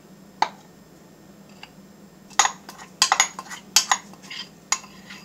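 Cookie brownie batter being spread into a lamb-shaped baking pan with a utensil, giving sparse scraping and clinking taps that grow busier midway, close and fairly quiet over a low hum.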